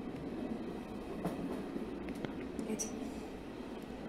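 A train in an animated episode rumbles steadily with faint rhythmic rail clicks, a continuous near drone filling the scene.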